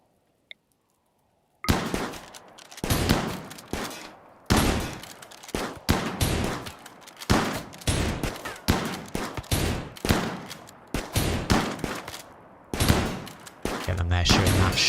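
Rapid video-game gunfire from RimWorld with zombies: dense bursts of shots in quick irregular volleys after a short silence, loud and sustained, with occasional pauses between salvos.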